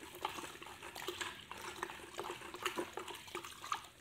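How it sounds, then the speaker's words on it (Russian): Quicklime being stirred into a bucket of water to treat a fish pond gives soft, irregular sloshing and trickling splashes, close by, with no talking. "Сейчас опять перемешиваю."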